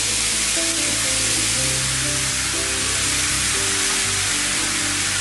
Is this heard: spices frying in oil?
yes